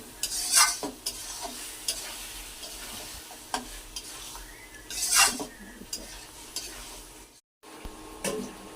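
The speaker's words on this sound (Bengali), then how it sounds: "পোলাও বসানো হচ্ছে চাল ভাজতেছি ঘি দিয়ে" Rice grains fry in ghee for pulao in a pot on an induction cooktop, a soft steady sizzle broken by several scraping stirs of a metal spoon against the pan, close and fairly quiet.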